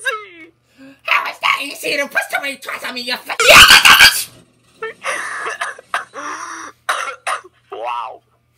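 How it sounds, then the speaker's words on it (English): A loud burst of harsh coughing erupts in the middle, surrounded by close conversational speech before and after, during a Fortnite game session. "You sound like coughing."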